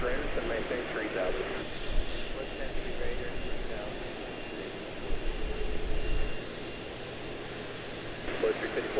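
An airliner taxis at Charlotte-Douglas International Airport, its engines a steady loud roar throughout, with radio voices talking over it.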